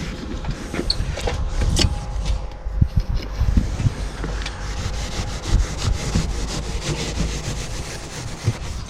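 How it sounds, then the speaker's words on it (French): A hand saw cuts through rock wool insulation for exterior wall insulation, giving rough, irregular back-and-forth rasping strokes that are close and moderately loud, with no talking over them. "tu remets ta scie"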